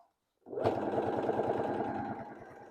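A sewing machine stitches the waistband of faux leather pants, starting after a brief silence with a steady rapid mechanical clatter of needle strokes, fairly quiet and close, running evenly without talk.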